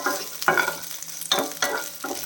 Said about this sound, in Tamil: மிளகாய் வந்து நல்லா வறுபடணும்